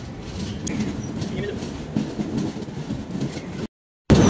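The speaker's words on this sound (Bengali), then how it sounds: "কাটোয়া জংশন স্টেশনে আমাদের ট্রেন ঢুকছে ধনুকের ভেসে ঘুরে ঘুরে।" The Kolkata Garib Rath Express rolls into Katwa Junction station along a curve, with a steady rumble of wheels and carriages sounding close and continuous before a brief cut, while someone talks.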